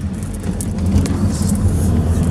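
A car is driven along, its engine giving a steady low rumble and road noise from inside the cabin, briefly swelling slightly, with no talking.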